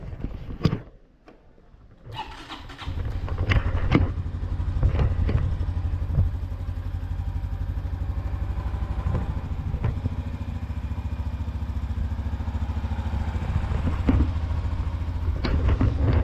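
A Honda Biz 125 motorcycle engine idles steadily after a brief start-up clatter, its low putter continuous and close, with occasional light clicks on top.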